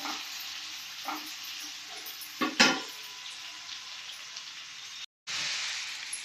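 Tomatoes cooking in oil over a low flame, with a steady soft sizzle and a few louder crackles and stirring scrapes partway through. The sound cuts out briefly near the end, then the sizzle returns.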